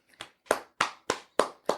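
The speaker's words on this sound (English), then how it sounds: "you already started clapping" Six sharp hand claps in a steady, slightly uneven rhythm, close and clear with short decays, during a podcast conversation.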